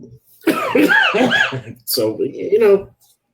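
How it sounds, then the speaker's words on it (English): A man coughs a couple of times, close to the microphone, with brief throat-clearing between the bursts. "Sorry for my slight coughing, people."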